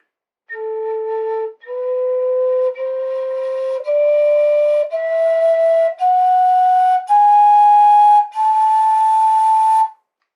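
Native American flute plays a melodic minor scale, eight clear sustained notes rising step by step, each held about a second with short breaths between, solo and close.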